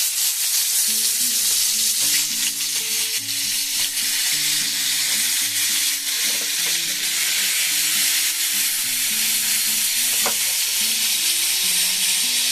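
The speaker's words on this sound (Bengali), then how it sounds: "তো এখন দিয়ে দেবো দেখুন পটলগুলো" Pointed gourd (potol) pieces, slit down the middle, frying in hot oil in a pan for doi potol, giving a loud, continuous crackling sizzle with occasional sharp pops and a faint low hum beneath.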